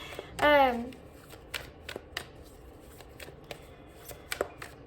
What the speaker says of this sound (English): my shuffles are doing horrible while I'm sitting here channeling